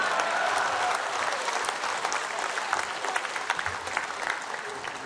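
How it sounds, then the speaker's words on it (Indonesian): Audience applause in the hall at the UMNO general assembly in 2017, a large crowd clapping steadily at moderate volume with occasional sharper individual claps. "Sekali lagi, tepukan untuk KJ."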